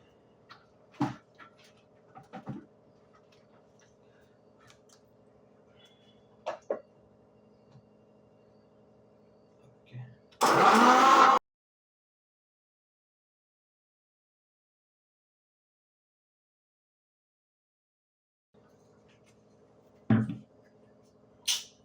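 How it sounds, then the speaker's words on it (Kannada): A mixer grinder blending with a little water whirs loudly for about a second, a short burst between quiet kitchen clinks and knocks. "ಮಿಕ್ಸಿ ಹೊಡೆ ಮಾಡಿ."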